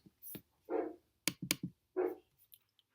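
A dog barks a few times nearby, short sharp woofs mixed with quick clicks and taps, spaced irregularly with quiet gaps between.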